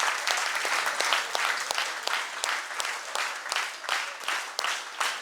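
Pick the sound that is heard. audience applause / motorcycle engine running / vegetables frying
audience applause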